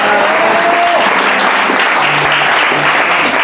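A church audience at a French-language Bible institute gathering breaks into loud, steady applause and cheering that fills the room, continuous and dense from start to finish.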